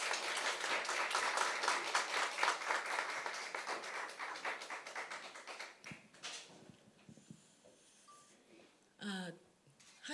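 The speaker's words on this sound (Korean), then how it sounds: "큰 박수 부탁드리겠습니다." A crowd at a New Progressive Party campaign rally in Gyeonggi Province applauds for several seconds, a lively patter of many hands that then trails off into scattered claps, shuffling and light room noise.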